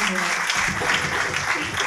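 A church congregation claps and cheers in praise of Jesus, a dense, continuous wash of applause with voices mixed in, fairly loud throughout.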